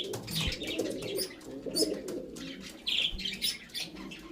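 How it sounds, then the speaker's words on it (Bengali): Pigeons in a loft, including Aliwala 35 and Teddy breeds, coo in low repeated throbbing calls, with scattered chirps and a brief flutter of wings throughout, close and moderately loud. "এই দেখুন পায়রা দেখুন কেমন।"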